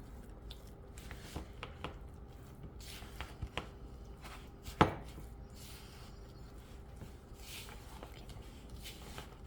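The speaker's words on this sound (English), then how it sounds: "cottage cheese with small curdles. Spatula in there. We're going to mix this as well." A spatula mixes small-curd cottage cheese in a bowl, making soft wet squishing and scraping with occasional clicks against the bowl. The sounds are faint and irregular over quiet room noise.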